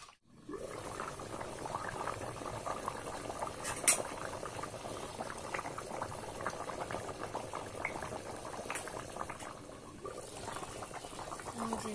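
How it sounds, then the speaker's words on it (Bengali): Chicken curry with added water bubbles on an earthen clay stove, a continuous soft simmering burble with small pops that runs steadily throughout, fairly quiet and close. "দেখো কত সুন্দর টকবক টকবক করে ফুটছে"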